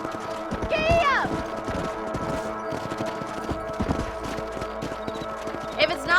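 Horses gallop with a steady clip-clop of hooves in the Red Dead Redemption video game, running under a dense bed of game sound, with a brief whinny-like call near the start and another near the end.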